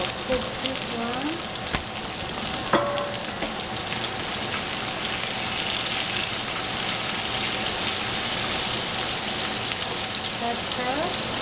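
Chinese broccoli and meat frying in a pan give a continuous close sizzle with a few clanks and scrapes of stirring near the start and end.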